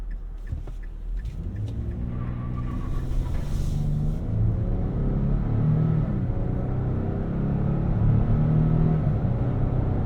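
Engine of a 2024 Nissan Frontier PRO 4X 4x4 pickup truck while driving, a deep steady rumble from inside the cab that rises through gears with rising and falling tones, no talk over it.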